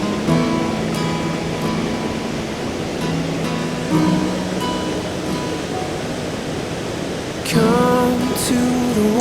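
Steady rushing roar of the Falls of Rha waterfall on the Isle of Skye, a constant broadband wash of falling water heard nearby, with a soft melodic tune playing over it.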